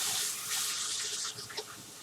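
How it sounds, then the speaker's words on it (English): Hands being washed under a running kitchen tap, a steady close rush of water with small splashing changes near the end. "So let's do a little wash up here."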